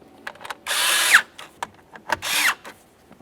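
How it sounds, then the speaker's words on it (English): Cordless power driver tightening ignition switch screws on a 2005-2010 Chevrolet Cobalt, two sustained whirring bursts about a second long with brief clicks and handling noises between them, close and loud. "Now at this point, we can tighten all three."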